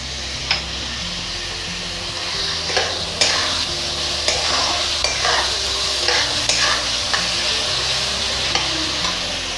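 Salted tomatoes sauté in a pan for pav bhaji, a steady sizzle broken by several sharp scrapes of a spoon stirring through the mixture, close and alone.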